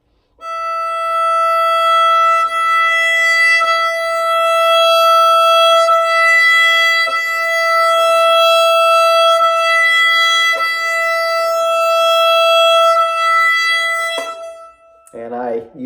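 A bowed string instrument plays a Brahms waltz in long, sustained notes with steady, even down bows, loud and close, with the tone held smoothly for about fourteen seconds before a brief shift at the end.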